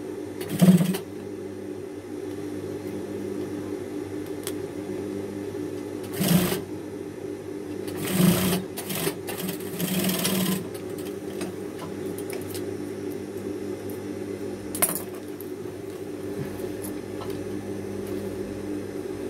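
A sewing machine topstitching the waistband of jeans being let out, running as a steady close hum with periodic louder bursts and clunks of fabric handling spread across the stretch, with no talking.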